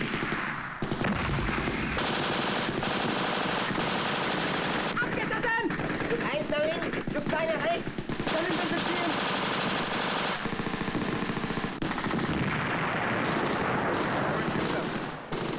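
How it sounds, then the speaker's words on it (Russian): Heavy battle gunfire in a 1969 war drama film: rapid machine-gun bursts and booming cannon blasts roar continuously, loud and dense throughout. "Подключите пушки."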